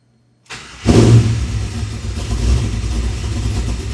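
A car fitted with Holley EFI cranks briefly, then catches and fires up loudly, settling into a steady, rumbling idle close by.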